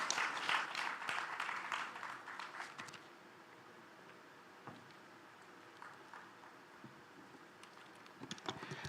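An audience at a career fair panel at Islamic University in Uganda gives brief, faint, distant applause for the panelists. The clapping fades out after about three seconds, leaving a quiet room with only scattered soft noises.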